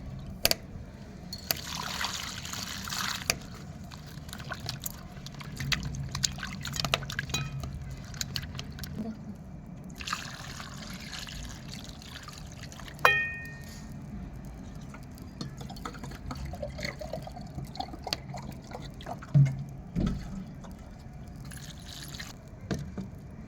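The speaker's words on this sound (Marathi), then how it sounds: "आता ह्यात पाणी टाकून घेऊ" Water trickles and splashes into a metal pot of chopped potatoes on a wood-fired stove, with occasional clinks, over a low steady background hum.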